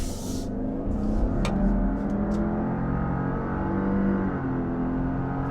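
A Subaru Outback's turbocharged 2.4 liter engine pulling under acceleration, a smooth rising drone with road noise heard from inside the cabin, steady and moderately loud.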